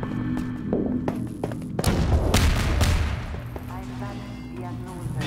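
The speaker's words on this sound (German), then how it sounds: "Hier explodiert einfach alles so" Explosions and gunfire in the first-person shooter Half-Life 2: Episode One, a sharp blast near two seconds followed by dense rumbling booms and rattling shots, loud and continuous over a low drone, with someone talking faintly underneath.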